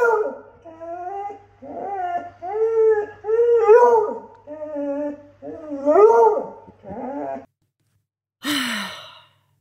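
A dog howls and whimpers in a long series of drawn-out, wavering cries with short breaks between them, close and clear, ending with a brief rough yelp after a pause.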